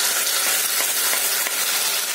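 Onion sizzling as spice paste goes into the pan, ground from tomato, ginger, garlic and green chillies; a steady, close, even frying hiss runs throughout with no talk.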